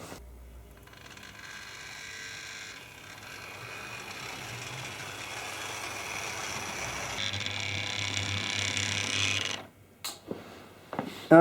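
A Tri-ang Winston Churchill model locomotive pulls a couple of LMS coaches with a steady, close mechanical whirr and rattle that runs for several seconds. The running sound stops abruptly, and a few sharp clicks follow.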